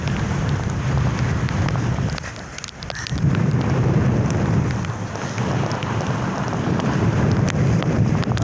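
Strong wind at sea during a typhoon roars and buffets the microphone in a constant loud rush, briefly easing before gusting back hard.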